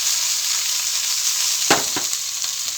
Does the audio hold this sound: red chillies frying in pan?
yes